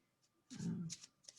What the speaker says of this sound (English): So let me go ahead and shuffle for this, and we'll get the story.